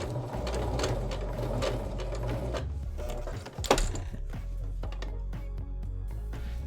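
A sewing machine stitches basted pleats on a fabric face mask with a steady, close mechanical whir and rapid needle clatter. A brief knock near the middle is followed by slower, distinct ticking stitches.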